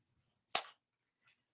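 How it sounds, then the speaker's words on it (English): One sharp snip of scissors through wreath-bow ribbon, crisp and close with a short decay, then a much fainter second snip about a second later in an otherwise quiet room. "I'm going to use my scissors"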